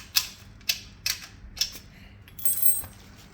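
A nut being tightened with a tool while a children's balance bike is assembled: four evenly spaced sharp ratcheting clicks, then a short grinding turn, close and crisp against a quiet room.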